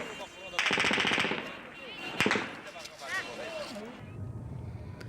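Bursts of gunfire near Kabul airport amid crowds, rapid crackling shots mixed with shouting voices and general commotion, fairly distant and chaotic.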